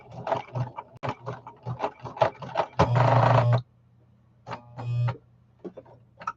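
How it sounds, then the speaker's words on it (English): A sewing machine stitches down a crafting project in short bursts, with one longer dense run of stitching in the middle and brief stops and starts on either side, close and fairly quiet. "now I'm going to sew all of this down, and we're going to hope that the machine behaves herself"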